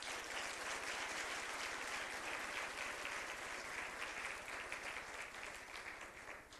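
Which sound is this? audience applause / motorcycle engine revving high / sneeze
audience applause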